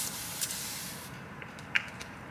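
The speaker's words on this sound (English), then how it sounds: "spray my face a little bit so that, you know, everything is moisturized" Evian face mist sprayed onto a face during a skincare routine: a soft, airy hiss near the start, with a couple of short, faint spritz bursts in an otherwise quiet room.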